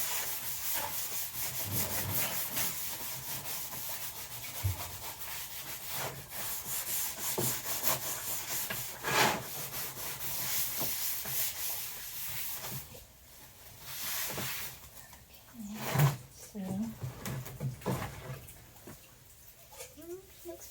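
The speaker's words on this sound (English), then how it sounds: "I'll wipe down any of the excess" Excess wood stain being wiped off a painted aspen wood sign, a steady soft rubbing and scrubbing that continues through most of the stretch, close up, with a few brief knocks and handling sounds near the end.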